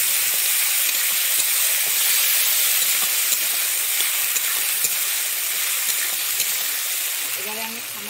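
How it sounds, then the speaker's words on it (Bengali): Ground cumin, chili and coriander masala frying in a pan, a steady close hiss and sizzle with faint stirring, continuous without pause. "আমি মশলাটাকে খুব ভালো করে ভেজে নিচ্ছি।"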